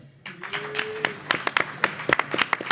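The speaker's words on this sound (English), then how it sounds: "You should clap now. Please clap." Light, scattered applause from an audience at a Libertarian Party of Pennsylvania presidential debate, a small number of separate claps picking up and growing denser across a couple of seconds, fairly close and modest in volume.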